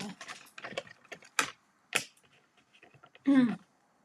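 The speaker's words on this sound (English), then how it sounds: "Now what I do want to do is cut that out. So let's cut that circle out there." Scissors cut a circle out of card for cardmaking, giving a few sharp, close snips separated by short pauses, with a brief voice near the end.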